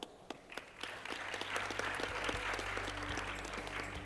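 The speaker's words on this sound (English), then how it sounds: "let's welcome them with a big round of applause." Audience applause welcoming a panel at a biotechnology summit, starting with a few scattered claps and swelling into steady, moderately distant clapping from a conference hall crowd, with a low hum underneath.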